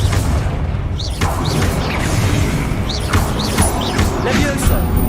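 Confringo fire spell explosions in the video game Hogwarts Legacy, a series of heavy booming blasts and crashes over a rumbling low background, with brief whooshing spell effects between them.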